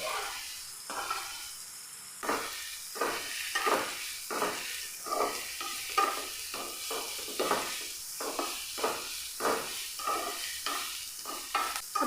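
Onion, grated carrot, green chilies and curry leaves sauté in a pan: a continuous sizzle broken by a long series of rhythmic scraping stir strokes, close and fairly loud.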